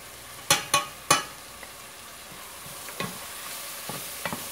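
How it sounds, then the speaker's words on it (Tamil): Chicken biryani masala frying in oil while being stirred, several sharp scrapes of a spoon against the pan over a soft, steady sizzle. "இது நல்லா ஆயில் ரிலீஸ் ஆகிற வரைக்கும் குக் பண்ணலாம்."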